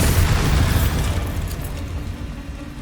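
A Bombarda spell bursts in Hogwarts Legacy as a loud, deep rumbling explosion that hits at once and slowly fades over about three seconds.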